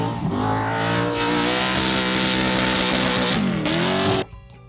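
A Mason Motorsports 4WD trophy truck with a Dugan's Big Block 8-stack engine racing in the desert, loud sustained roaring engine with a rising pitch sweep, then cutting off abruptly near the end.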